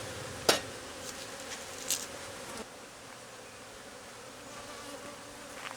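Aggressive bees buzz around a beekeeper, a faint, continuous hum close to the microphone, with a couple of sharp taps and brief nearby buzzes.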